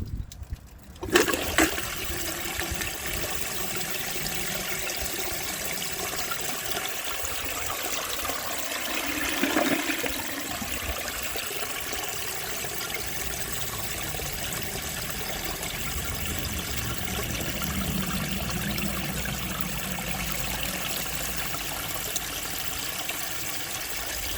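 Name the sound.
1902 Fleck Bros. Victor toilet flushing with an overfilled tank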